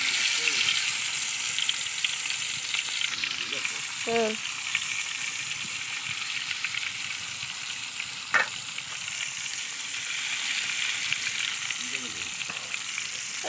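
Pangas fish coated in turmeric and salt crackles and sizzles steadily in hot oil in a village kitchen pan, a continuous frying hiss with brief clinks and stirring noises and a little nearby speech.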